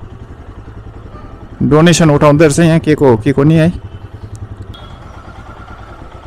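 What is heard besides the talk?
motorcycle engine idling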